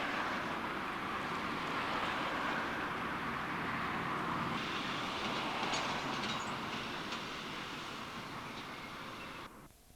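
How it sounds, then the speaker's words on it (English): A Class 91 electric train is overtaken by an HST set on the railway near Doncaster, a sustained rumble and rush of passing trains with light rail clatter that fades out at the end. "a Class 153 unit from off the Lincoln line, and then a Class 91 electric on the upslow is overtaken by a HST set"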